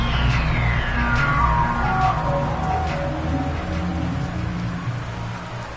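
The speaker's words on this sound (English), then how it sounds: "The rain set to continue as we are underway in the second half." Steady rain hisses throughout a Texans versus Jaguars football video game match, a dense, even wash of falling drops with a faint sweeping tone passing underneath.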